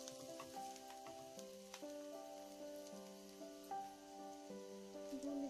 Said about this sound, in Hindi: अब अनियन फ्राई हो चुके हैं